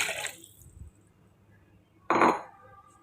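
Water poured from a glass into a pot of rice and moong dal for khichdi, two short splashing pours separated by a quiet pause, close by.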